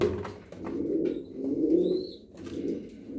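King pigeons perched on wire mesh coo softly in low, rolling phrases, quiet and close, with no talking.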